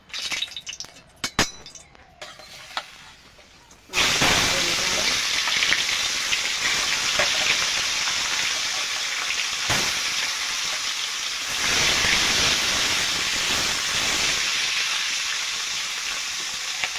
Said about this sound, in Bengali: এবার আমি মাছটা ভেজে নেব। কড়াইতে দিয়ে দেবো তেল